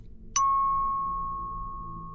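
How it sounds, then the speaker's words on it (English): One clear bell strike rings out and its pure tone sustains, slowly fading over a couple of seconds in near silence. "The bell is calming. It will help bring you back to center."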